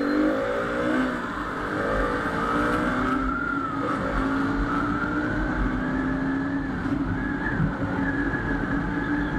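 A KTM Duke motorcycle engine hums and revs continuously at moderate distance, its pitch rising gradually with a few shifts, a steady mechanical drone alone without any talking.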